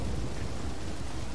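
Rain in the video game Red Dead Redemption II falls as a steady, dense wash of droplets with a low rumbling undertone, continuous and fairly loud with no voices.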